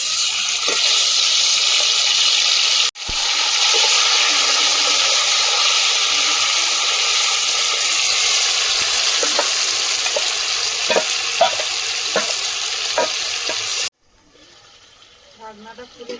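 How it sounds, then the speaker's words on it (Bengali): Chicken pieces go into hot oil in a pot for biryani, giving a loud, steady frying sizzle with scattered stirring clicks and a sharp knock early on, before dropping to a faint quiet stretch. "এবার এই তেলের মধ্যে আমি চিকেনটা দিয়ে দেব।"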